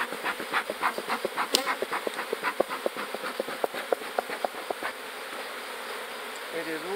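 Foraging honeybees buzz around a hive, a soft steady drone broken by many quick close flybys as individual bees pass near, fairly faint, with no talking.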